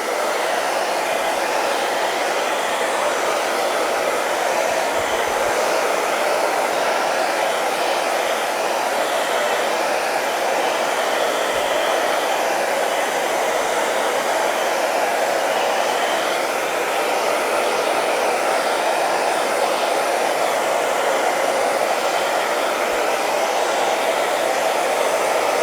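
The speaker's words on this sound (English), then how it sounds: "Get my hairdryer" Handheld hair dryer blowing steadily over a gel plate print, a continuous loud, close whooshing roar that holds constant without breaks or voices.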